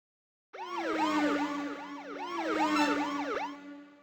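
Wailing ambulance siren in the Saturn game Tryrush Deppy, a cycling electronic yelp that starts abruptly and repeats in quick rising-falling sweeps, loud and alone before fading out.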